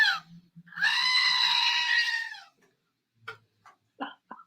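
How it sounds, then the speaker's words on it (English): A goat scream sound effect: one long, loud, wavering bleating scream lasting about two seconds, preceded by a brief cry and followed by short sharp sounds. "This is where you would insert the goat scream."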